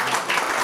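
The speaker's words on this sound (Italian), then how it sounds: "Bravo, sì, applauso." Brief burst of audience applause at a gathering honouring a Sardinian bread-maker, dense clapping steady and fairly close, with no voices over it.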